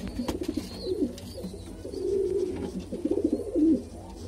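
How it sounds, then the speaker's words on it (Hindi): Red Punjabi pigeons coo in soft, repeated throaty phrases at close range, with faint background noise and no talking. "पंजाबी कबूतर है, लाल पंजाबी कबूतर सलेटी पन में।"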